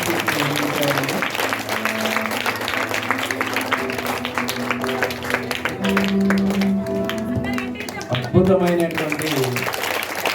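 An audience claps after a student skit, dense steady applause running throughout, mixed with background music and a voice speaking over it.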